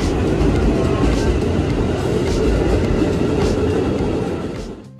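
Train passing through Matraman station in Jakarta, a steady loud rumble and clatter of rail cars running close by for most of the stretch, then easing off toward the end.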